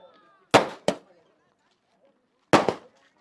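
Fireworks at a cricket grand final celebration: two sharp bangs close together, a pause, then two more cracking bursts, loud against near silence.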